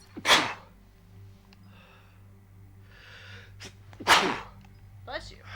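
Two loud, sharp human sneezes burst out a few seconds apart, each a sudden explosive blast, with quiet breathing and faint background hum between them.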